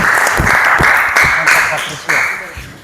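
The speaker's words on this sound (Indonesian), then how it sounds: "Oke, kita tepuk tangan dulu." Schoolchildren in an Indonesian classroom clap together in several quick bursts of applause, loud and close, with a voice heard over the clapping.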